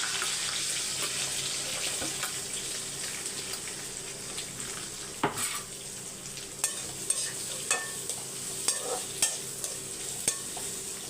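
Curry leaves, dried red chilies and five garlic cloves sauté in hot oil with a constant crackling sizzle, while a utensil clinks against the pan several times toward the end.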